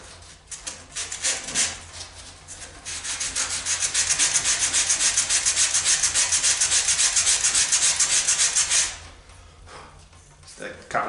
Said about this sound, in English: Just a couple of seconds with a bit of sandpaper and it comes out nice and smooth